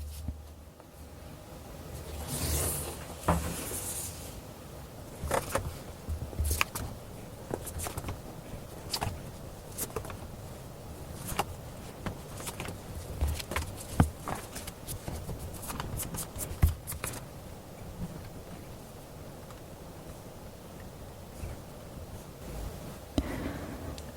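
Tarot cards are shuffled and drawn by hand in a quiet room, with soft papery riffles and scattered sharp flicks and taps of individual cards recurring irregularly throughout, close and fairly faint.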